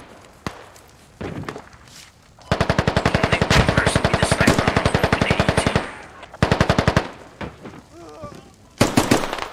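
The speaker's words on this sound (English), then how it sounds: "they're shooting the 338 Lagoa Magnum" Rapid automatic fire in the game Squad, with sharp rifle cracks also heard: long sustained bursts of evenly spaced shots, loud and close, broken by pauses and a few isolated single shots, while a voice speaks briefly in between.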